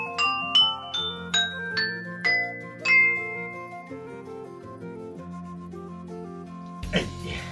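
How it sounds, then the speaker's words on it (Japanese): A homemade instrument built entirely from tableware is struck in a descending run of bright, bell-like ringing tones that overlap and decay, ending in a brief rattling clatter, all close by. "これ全部食器でできてる楽器なんですね。"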